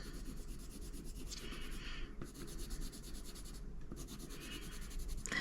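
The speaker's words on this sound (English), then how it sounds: "let's pick one out and see how it performs" Oil-based colored pencil stroking across ordinary printing paper, a steady close dry rubbing texture that runs continuously with two brief pauses, smooth rather than scratchy, no voices.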